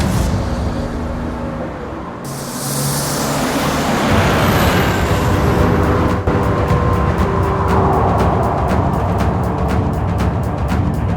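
A car is driven under tense drama-scene conditions, a loud continuous engine and road roar that swells and holds steady, later overlaid by rapid ticking-like pulses.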